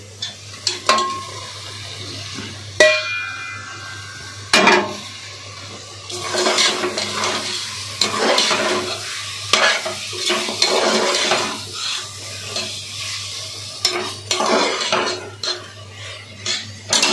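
Pieces of shark fish fry in masala in a pan, with repeated scraping and stirring of a spatula against metal and a soft sizzle between the clatters.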